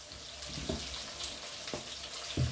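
Flour-and-egg-coated strips of liver, soaked in milk beforehand, frying in a pan with a steady broadband sizzle and a few soft clinks and bumps, close and fairly quiet.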